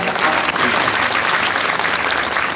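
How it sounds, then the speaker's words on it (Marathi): Loud, sustained applause from an audience at a Navratri festival gathering, with dense clapping filling the whole stretch at an even level and no voices standing out. "बरं एकदा जोरदार टाळी वाजवा"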